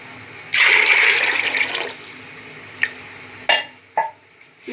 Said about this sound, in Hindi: इसके साथ हम 2 मग पानी के डालेंगे।